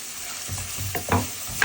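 Whole spices for a katla fish-head and green stem curry sizzle loudly in hot oil, stirred with a few quick scraping strokes, close up with no talking.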